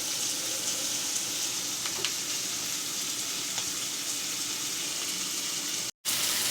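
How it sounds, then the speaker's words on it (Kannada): Parotta warming in a hot pan gives a steady, dense sizzle that runs without a break and is briefly cut off near the end. No voices are heard. "ಪರೋಟನ ಬೆಚ್ಚ ಮಾಡ್ತಾ ಇದ್ದೀವಿ"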